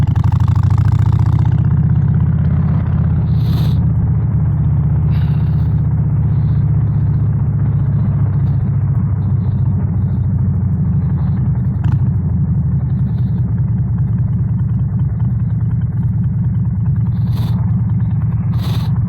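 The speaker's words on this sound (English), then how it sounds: "Traffic coming out of Southampton on a match day is horrifically bad." Heavy match-day traffic leaving Southampton, a constant low rumble of idling and creeping car engines heard close up and continuous, with a few faint high clicks scattered over the drone.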